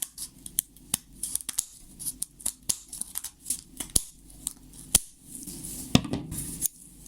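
Scissors snip a stiff paper hemisphere shell in small trimming retouches, making a series of short, sharp, irregular clicks up close at a quiet level with brief pauses between cuts.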